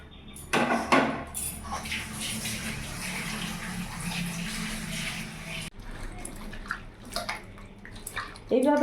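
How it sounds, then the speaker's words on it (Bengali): Raw mango pieces are squeezed and rubbed by hand in a bowl of water, a continuous close sloshing and splashing with light clinks against the container and occasional speech. "এইভাবে কচলে কচলে 3-4 বার ভালো করে ধুয়ে নেবে"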